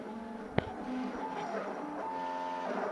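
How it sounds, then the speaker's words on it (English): A homemade CNC YZ gantry runs a test pattern under EMC2 control. Its motors whine softly in tones that shift pitch from move to move, with a sharp click early on and a faint rattle from loose items piled on the frame. "Some rattling noises, but that's probably because of all the stuff I have piled on the gantry"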